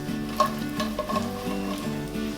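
Slices of bread fry in a hot pan until crisp and brown, a steady low sizzle with soft scraping and shuffling as the pieces are pushed around, close and continuous with no talking.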